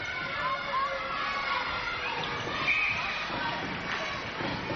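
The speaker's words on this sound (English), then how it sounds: "I think that might have been the Amy Adelaide Thunderbird cheer squad revving up" Adelaide Thunderbirds cheer squad at a 1998 netball grand final making a rolling thunder noise: a steady, dense crowd rumble filling the arena without letting up.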